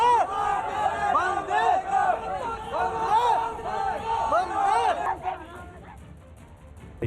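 A crowd of hundreds packs the road outside a fallen soldier's home, raising loud, overlapping voices in wavering shouts or chants that fade toward the end.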